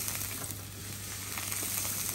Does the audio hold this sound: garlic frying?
yes